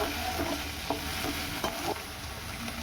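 Chopped onion sizzles steadily in a hot kadai as it is stirred, with a constant frying hiss and a few scraping strokes of the spoon across the pan.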